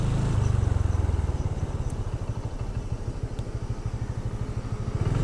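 A motorcycle on a steep alternative climb road near Rajekwesi runs close and loud, its engine thudding in a fast, even pulse that holds throughout with a slight swell and dip, no voices over it.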